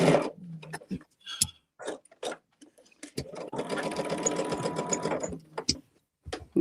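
A sewing machine stitches quilt blocks, first in short stop-start bursts and then in one steady, whirring run of about two seconds. A few light clicks follow close by.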